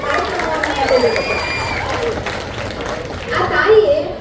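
Applause from the audience at a Kannada literary conference: a broad, steady wash of clapping and crowd noise lasting several seconds, with a few voices mixed in and a louder swell near the end.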